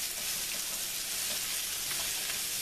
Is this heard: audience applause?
no